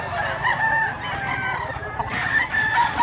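Close, loud crowing from a nine-month-old Popeye Grey and Kelso roundhead cross rooster, a sustained call that rises and holds, with a second crow starting near the end.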